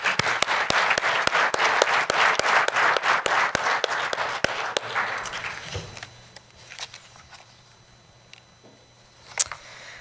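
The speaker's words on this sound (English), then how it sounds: "let's give her a round of applause anyway" Enthusiastic applause from an audience at the Coverings 2014 CID Awards ceremony, dense steady clapping that thins out and fades after about five seconds, leaving a quiet room with a few scattered claps.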